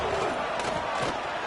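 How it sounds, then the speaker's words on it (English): Home crowd at a Utah vs UK football game, a dense, steady roar of cheering fans filling the stadium, broad and continuous with a few louder surges throughout. "this home crowd is fired up and ready to make a difference"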